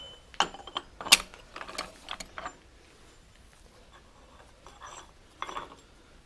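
Chisel or splitter work on a seized nut on a Farmall Super M tractor crankshaft: a handful of sharp metallic clinks and knocks early on, a quiet gap, then a few more light metal taps.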